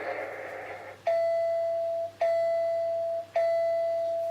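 A NERF Tech Target electronic dartboard gives three clear, evenly spaced beeps, each a sharp tonal onset with a slowly fading ring, standing alone after a brief stretch of background noise.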